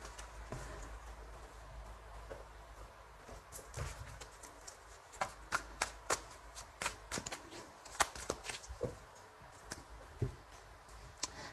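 Tarot cards shuffled by hand for a French-language reading, a soft papery patter broken by irregular sharp riffles and taps that grow busier toward the middle, close and fairly quiet with no talking.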